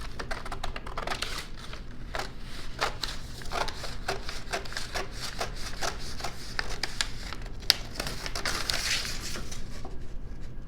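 Scissors cut through a folded paper sewing pattern, a close run of crisp, irregular snips and rustles that is quiet and steady.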